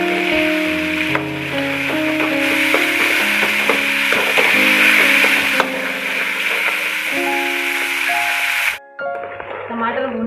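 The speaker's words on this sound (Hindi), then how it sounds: "टमाटर भूनते में ही हम सारे मसाले डाल देंगे।" Tomatoes frying in a pan with chili powder and coriander powder, a steady sizzle that runs nearly continuously under prominent melodic background music, then drops away near the end.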